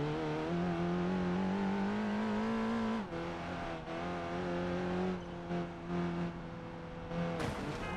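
A video game car's engine revs hard and steady while driving through rising flood water, its pitch climbing gradually, dipping briefly, then holding loud and close throughout.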